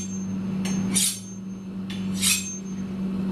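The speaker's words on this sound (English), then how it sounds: "You want to keep that angle the entire length as you sharpen the blade like this." Knife blade drawn along a file for sharpening, two distinct rasping strokes about a second apart over a steady low hum, close and fairly loud.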